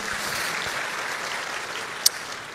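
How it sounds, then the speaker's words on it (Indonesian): Steady broadband wash of applause from a church congregation, moderately loud and sustained, with one sharp click near the end. "Berikan tepuk tangan kita kepada Tuhan kita"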